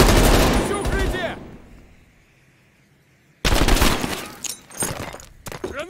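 Gunfire in Call of Duty: Black Ops Cold War, loud dense bursts of automatic fire opening the clip, a short quiet stretch, then heavy rapid shooting returning in clustered volleys to the end.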